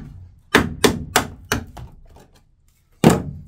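Hammer blows on sheet metal of a 1990 Jeep XJ cargo floor during removal work: four sharp knocks in quick succession, a short pause, then one more loud strike, close and without talk.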